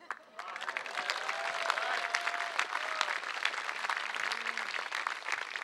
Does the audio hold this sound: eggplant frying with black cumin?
no